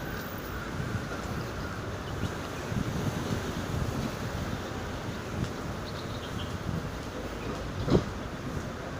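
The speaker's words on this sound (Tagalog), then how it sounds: "ang ihip ng hangin ay malamig" Cool, steady wind blows with a broad, constant rushing roar on a road toward a market; near the end a brief sharp knock stands out, and no one speaks.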